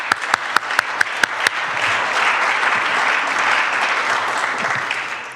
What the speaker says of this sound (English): So I'd like to give them a big round of applause.